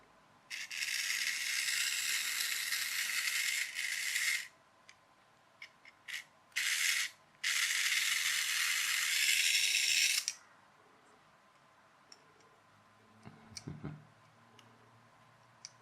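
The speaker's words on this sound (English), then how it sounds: "But you can hear the motors running anyway." Small electric motors of a salt-water-powered robot kit, test-run from a button cell, give a loud steady buzzing whir in long bursts with brief stops, then a few faint clicks near the end.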